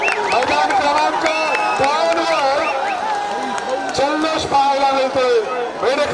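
Supporters of a team at a kabaddi semi-final erupt in loud cheering and shouting, a dense crowd roar that continues steadily, with a commentator talking over it.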